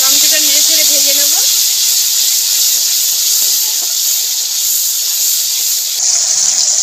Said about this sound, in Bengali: টমেটোটা নেড়ে ছেড়ে ভেজে নেব।